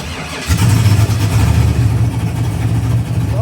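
A Pontiac GTO engine cranks and catches after tuning adjustments, then settles into a loud, steady, rumbling idle close by.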